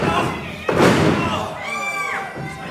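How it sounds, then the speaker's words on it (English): A wrestler's elbow drop at a live WrestleForce show in Shoeburyness lands as one heavy thud on the ring mat, under a commentator's voice and crowd noise. "Big elbow drop."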